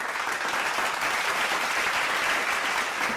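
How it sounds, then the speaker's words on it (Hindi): Crowd applause at a farmers' forum on sugarcane and horticulture welcomes a guest onto the stage: an even, sustained roar of many clapping hands, fairly distant and steady throughout, with no speech over it. "एक बार तालियां बजा दें आप।"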